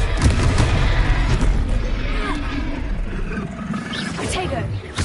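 Explosive booms and crackling blasts of the Confringo fire spell in Hogwarts Legacy combat, loud and close, mixed with battle noise and voices talking over it.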